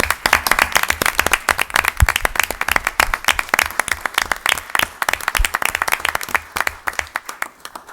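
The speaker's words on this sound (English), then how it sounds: "I'm going to ask them to stand because they deserve a round of applause" At a village board of trustees meeting, an indoor audience gives volunteer drivers a round of applause, with dense, steady clapping that carries on for the whole eight seconds before thinning out at the end.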